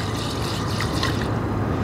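Rice being rinsed in water, a continuous soft swishing and trickling of liquid, steady and close, with no voices.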